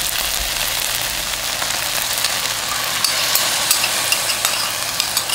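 Meat stir-frying in a hot pan with onions for a Korean onion rice bowl (yangpa deopbap) gives a loud, steady sizzle, with light clicks and scrapes from stirring close by and no talking.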